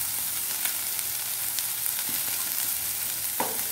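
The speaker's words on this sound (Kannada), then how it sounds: "ಹಾಕಿ ಫ್ರೈ ಮಾಡಿ." Asafoetida and turmeric fry in hot oil, making a dense, continuous close-up sizzle with a few faint stirring taps and no voices.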